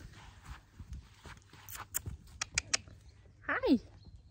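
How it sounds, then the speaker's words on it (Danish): A horse's hooves clip-clop on a hard floor in a stable in a series of irregular sharp knocks, joined by a squeaky creak near the end, with quiet background noise. "Vi har fået hesten ind"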